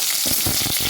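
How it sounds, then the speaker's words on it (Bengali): Potato pieces fry in hot oil for a Bengali fish curry, giving a dense, steady sizzle with soft crackling pops, close and continuous, with no voices. "আমি এখন আলুগুলো ভেজে নিব।"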